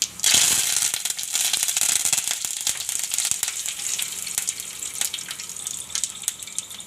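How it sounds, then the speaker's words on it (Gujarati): Mustard seeds, cumin and curry leaves hit hot oil for raw-banana poha, bursting into a loud, close, continuous sizzle with scattered crackles and pops that ease slightly over several seconds. "તો આપણું તેલ ગરમ થઈ ગયું છે તો હવે રાઈ નાખી દેવું આપણે જીરું નાખી દેવું અને મીઠા લીમડાના પાન નાખી દેવું"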